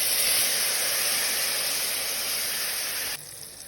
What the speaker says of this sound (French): Je rajoute un petit peu de l'eau.